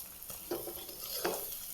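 Spice tempering crackles in hot oil in a kadhai while making dhaba-style paneer, soft sizzling with a couple of sharper stirring scrapes against the pan, quiet and close.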